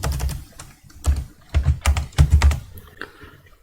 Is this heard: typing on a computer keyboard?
yes